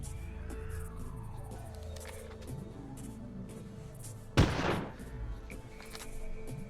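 A single loud rifle shot cracks out while hunting a stegosaur in the video game Carnivores Legacy, followed by a brief echoing tail over quiet ambient game sound.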